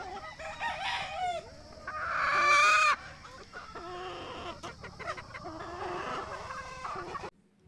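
A mixed flock of chickens, brood hens, pullets and cockerels, clucking steadily in a backyard pen, with a rooster's loud crow rising briefly over the close, continuous chatter.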